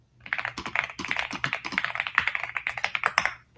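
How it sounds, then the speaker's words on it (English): Quick, close clatter of fingers typing on a computer keyboard, a dense run of crisp keystrokes with no talk. "I've typed in this bit here and it's going to start investigating"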